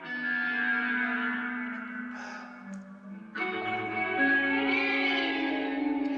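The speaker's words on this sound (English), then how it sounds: "All those weird sounds are the Roland space echo or chorus echo." Swirling, reverberant echo and chorus textures from a Roland Space Echo on the multitrack of Blondie's Heart of Glass, sustained tones smeared with repeats, a brief dip midway, then a denser shimmering return.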